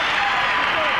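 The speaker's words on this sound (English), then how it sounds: "the crowd is cheering here for the Bulls right now, and the Pistons as they leave the court" Arena crowd at a 1991 NBA Eastern Conference Finals basketball game between the Detroit Pistons and Chicago Bulls, cheering as the Pistons leave the court; a dense, steady roar of cheers and applause, loud and continuous throughout.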